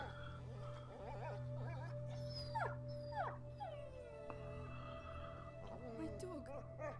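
A dog whimpers and yelps in high, wavering cries over a steady low hum in the dark medieval setting of A Plague Tale: Innocence, the cries coming in short bursts at moderate distance.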